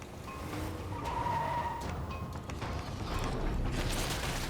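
A car in the State of Decay 2 video game reverses slowly, with a steady mechanical engine drone and faint creaking and skidding textures, heard alone.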